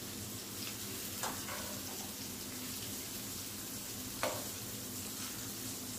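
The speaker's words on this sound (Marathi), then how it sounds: "सगळी मांदेली आपण उलटून घेऊ आणि दुसऱ्या बाजूने सुद्धा फ्राय करून घेऊया" Mandeli fish fry Malvani-style in a pan, a steady quiet sizzle running throughout with a couple of soft scraping clicks as pieces are turned, no voices.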